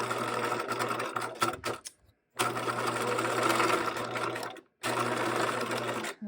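A sewing machine runs steadily while stitching a pants seam pocket, with two longer bursts of motor hum and needle chatter broken by short pauses, close and loud, with no talking.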